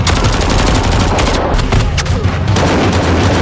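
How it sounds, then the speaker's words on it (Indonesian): Gunfire in a panicked exchange of shots: loud, dense bursts of rapid shots overlap in a continuous crackling volley, with brief sharper cracks punching through the clatter throughout. "Terjadi kepanikan dan baku tembak."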